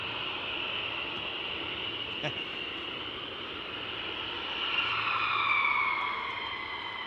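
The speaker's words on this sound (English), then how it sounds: "C-130 going out of the hall." A departing C-130 transport aircraft makes a broad, steady propeller drone, sustained and distant, swelling somewhat louder near the end before easing off.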